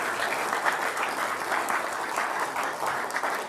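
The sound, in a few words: applause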